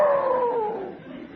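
A person imitates a dog howling, a single drawn-out, falling howl that is close and fairly loud, with no other sound.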